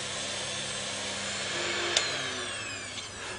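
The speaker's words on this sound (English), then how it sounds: "By gently rotating the handle, it grinds the tungsten." A tungsten electrode grinding machine working a tungsten rod, a steady high whirring grind with a brief sharp scrape near the end, continuous and fairly loud with no talking.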